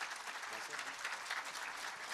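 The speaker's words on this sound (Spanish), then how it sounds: "Un fuerte aplauso para nuestro hermano Pastor Medardo." An audience at a theological debate applauds, a dense, even wash of clapping that continues throughout at moderate volume with speech-like sound mixed underneath.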